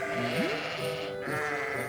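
A voice imitates a sheep with a single wavering "baa"-like bleat, close and fairly quiet, with a rising pitch sweep and a tremulous sustained tone.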